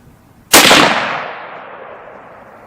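A single loud, close rifle shot from a Weatherby Vanguard rifle being sighted in, a sharp crack followed by a long decaying outdoor echo.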